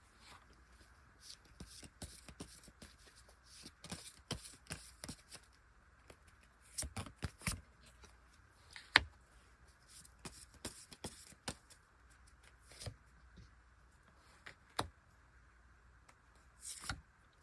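Tarot cards shuffled and drawn at a reading: soft, scattered snaps, slides and flicks of the cards, close and quiet, coming in uneven clusters with no talk.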